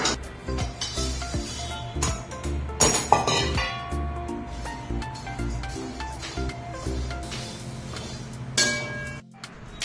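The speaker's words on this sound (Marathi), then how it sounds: "आता ते काढून मी पोहे भाजायला घेते" Dry poha (flattened rice) is stirred and roasted in a pan for a sweet dish, giving near, crisp clinks and scraping taps at an irregular rhythm.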